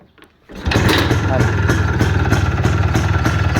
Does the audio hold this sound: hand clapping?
no